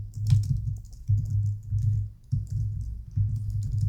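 Code being typed on a computer keyboard, quick uneven runs of close, muffled keystrokes separated by brief pauses, with no talking.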